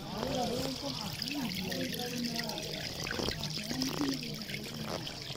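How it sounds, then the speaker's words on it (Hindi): Spring water trickles and splashes steadily at the Qadamgah shrine spring near Neyshabur, Iran, while voices murmur and talk over it. "चश्मे का पानी"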